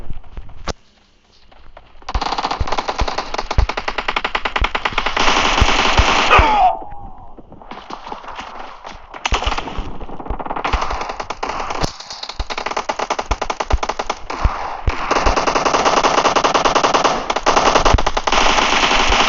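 Loud, sustained automatic gunfire in a PUBG team deathmatch, long rattling bursts that barely pause, with one short break near the start and a brief softer stretch midway.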